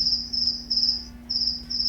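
Cricket chirping in sharp, high trills, repeated in roughly half-second bursts with short gaps, loud and close over a faint low hum.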